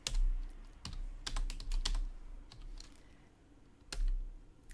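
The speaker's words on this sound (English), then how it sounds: "I've typed the letter A" Typing on a computer keyboard while writing a first R script, with clusters of close, crisp keystrokes in irregular bursts and short pauses between them, heard alone with no talk.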